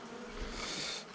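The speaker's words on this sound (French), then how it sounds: "c'est de l'abeille à miel là" Honey bees at a rural apiary buzz in a steady, close swarm drone that rises and fades over about a second, with no voices.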